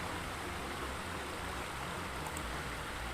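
Steady broadband rush of falling water, a constant dense hiss with a low rumble, continuous and unbroken throughout; a waterfall sound effect in a 3D pool design program.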